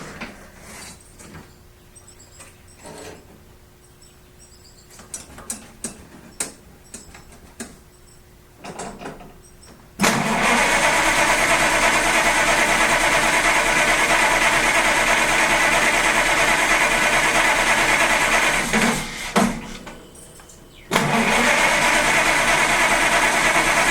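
A 1931 Chevrolet engine being restarted after carburetor bowl work. Scattered clicks and taps give way to a loud, steady running idle that briefly drops out and then resumes.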